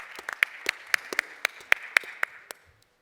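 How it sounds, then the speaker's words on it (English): Scattered applause from a modest audience at a space law panel at the Global Space Congress: a dozen or so sharp, distinct claps in an uneven rhythm that thin out and stop after about two and a half seconds. "Let's have a warm round of applause for her."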